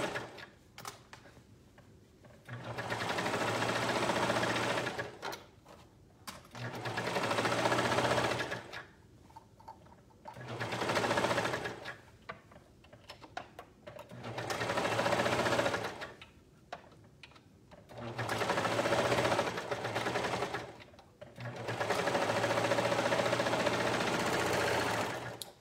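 A sewing machine stitches a hood onto a child's bathrobe in six steady bursts of close, even whirring, each a few seconds long, separated by short quiet pauses. No one speaks.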